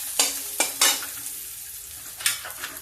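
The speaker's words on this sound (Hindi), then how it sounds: "प्याज पक रहा है थोड़ा मेरा।" Onions cooking in a kadai while a spoon scrapes and stirs, making several sharp scraping strokes over a low, steady sizzle; close and fairly quiet, with no voices.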